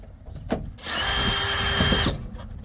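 A power drill drives a 1/4 inch screw while a heat exchanger is removed, giving one steady whine of just over a second that starts and stops sharply, close up and loud, with faint clicks around it.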